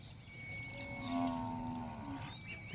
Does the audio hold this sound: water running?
no